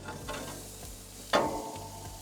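Marinated potato pieces are thrown onto a very hot barbecue, giving a continuous close sizzle with a sharp louder burst as they land before settling back to a steady hiss.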